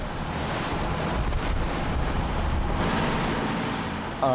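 Rough sea waves around Seogeochado, a remote island off Jindo, Korea, a loud continuous roar of surf with strong wind buffeting the microphone, steady throughout with no speech.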